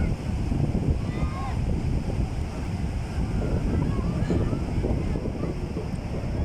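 Steady roar of sea surf with strong wind buffeting the microphone, continuous and fairly loud, with faint voices in the background, at a Durga idol immersion in the sea during Basanti Puja.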